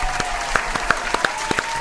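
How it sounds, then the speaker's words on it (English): Brief applause: a smattering of hands clapping at an uneven pace, crisp and close, with no voices. "That's a new applause"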